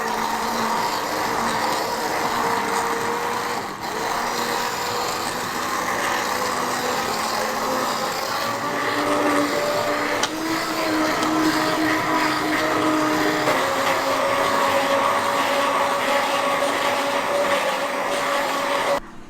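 Butternut squash soup whirring in a high-powered blender, a loud, steady motor drone with a shifting whine that holds continuously throughout, with no talk.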